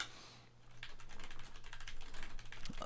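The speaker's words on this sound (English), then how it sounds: "I don't know why I'm typing." Rapid typing on a computer keyboard, a steady stream of close, crisp key clicks with a low hum underneath.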